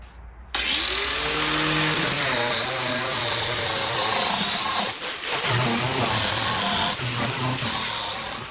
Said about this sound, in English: So that paint removal was done with an abrasive disc like this.